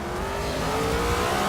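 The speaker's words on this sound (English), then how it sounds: "It sounds like a V8." BMW race car at the Nürburgring in Forza Motorsport 7, its engine revving loudly and continuously in a brief, dense burst with no voices.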